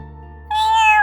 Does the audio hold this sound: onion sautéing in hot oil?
no